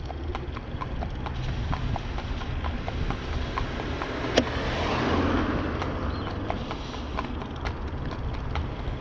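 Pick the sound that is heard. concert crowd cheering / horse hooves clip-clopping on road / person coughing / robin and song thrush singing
horse hooves clip-clopping on road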